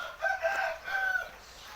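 Fighting roosters crow in a chicken coop at a cockfighting venue, one drawn-out call rising and then a second crow close behind it, with no talk over them.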